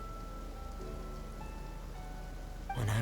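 Steady rain pours in the video game Genshin Impact, a dense even hiss of drops hitting surfaces throughout, with a louder splashing surge at the very end.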